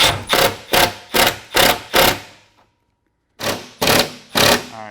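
A drill bites into a part on a C7 Corvette during a carbon fiber rear diffuser install, sounding as loud, sharp bursts in quick succession, one short pause, then three more.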